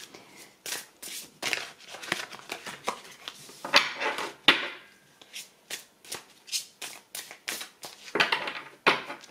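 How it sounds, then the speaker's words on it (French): Tarot cards being shuffled and drawn for a reading, a steady series of crisp papery flicks and slaps close by, repeating in short bursts with brief pauses between. "je vais maintenant tirer trois cartes pour vous"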